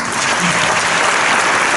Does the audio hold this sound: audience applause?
yes